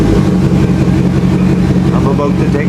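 A Dodge Neon's engine runs steadily up close, a loud low idle rumble that holds throughout, with faint voices in the background.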